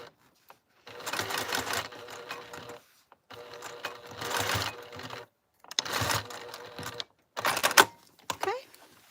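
A sewing machine stitches across the bottom of a flap on a handmade bag in several close, steady bursts separated by brief pauses, with the last run shorter and choppier.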